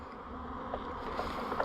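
A dense, steady hum of many aggressive honeybees buzzing close around a hive during a nectar dearth, with a few individual buzzes rising briefly above the drone.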